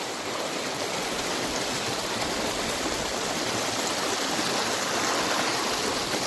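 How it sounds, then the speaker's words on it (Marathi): A forest stream flows continuously, a loud, steady rushing and splashing of water close by with no voices. "वड्याचं पाणी"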